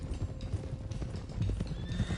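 Horses trot with rhythmic clip-clopping hooves and let out neighs and whinnies in the video game Red Dead Redemption 2, the hoofbeats close and steady with no talking.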